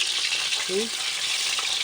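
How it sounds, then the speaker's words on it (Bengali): Pieces of pona fish fry in an iron kadai while being turned and stirred, giving a steady, close, broadband sizzle with one brief tonal squeak partway through. "মাছগুলো এইভাবে নেড়ে চুড়ে নিচ্ছি এই দেখো এইভাবে সবগুলো মাছ মেরে তুলে নেবো ভালোভাবে"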